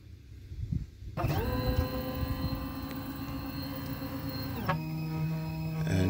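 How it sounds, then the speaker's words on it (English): A Lonsdor key cutting machine runs a Toyota Sienna emergency key blade, starting abruptly with a steady, close, loud whirring drone of the motor and cutter. The pitch shifts briefly near the end as it moves to a new angle. "this works as like a little CNC machine"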